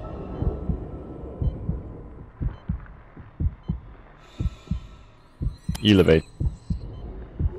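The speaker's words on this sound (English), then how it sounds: "The heartbeat's a kind of an interesting way to convey the danger." Heartbeat sound effect from the video game Dead Space 3: a loud, steady series of deep thumping beats, close and regular, over a low hum, with a brief word spoken and a harsh electronic burst near the end.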